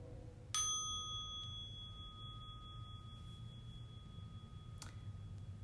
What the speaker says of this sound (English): I'll ring our bell and we'll begin